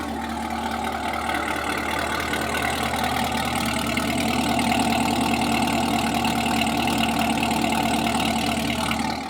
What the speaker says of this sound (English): what I'm gonna show you currently is what the car sounds like as of right now.